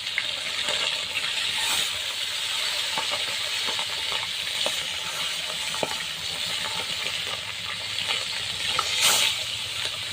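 Bata fish, rubbed with turmeric and salt, sizzles steadily in hot oil in a wok, a continuous bright hiss with faint crackles and a few sharper pops, close and fairly loud with no talking.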